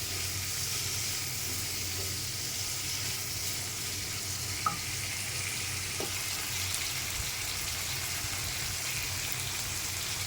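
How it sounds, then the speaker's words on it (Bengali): Potatoes with turmeric and salt fry in a pan with a steady, even sizzle and crackle, with a couple of faint clicks of stirring; no voices. "এটাকে ভাজতে হবে ভালো করে।"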